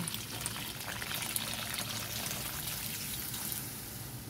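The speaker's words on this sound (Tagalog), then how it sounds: "dadagdagan ako ng tubig" A steady stream of water pours and splashes into a cooking pan of pancit bihon, continuous and fairly close, with no talking over it.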